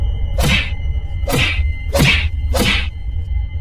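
Four cartoon beating effects land about half a second apart, each a sharp whooshing thwack with a thudding slam, as an air hostess pounds and slams a character aboard a cursed plane in a Gulli Bulli animated story.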